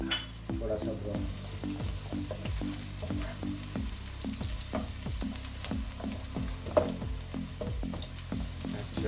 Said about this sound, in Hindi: इसके अंदर ये लहसुन अदरक डाल दूँगा, 1-2 मिनट के लिए ये हो जाएगा थोड़ा सा ब्राउन।